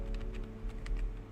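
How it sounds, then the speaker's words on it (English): A computer keyboard clatters with a quick, uneven run of light key taps, close and fairly soft over a low steady hum, with no talk. "My keyboard's probably so loud."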